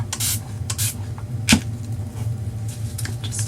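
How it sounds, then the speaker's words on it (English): Short hissing bursts from a hand spray bottle misting water over eggs decorated with paint inlay, several quick sprays at close range with a sharper click-like burst midway. "we're going to be doing some spraying here"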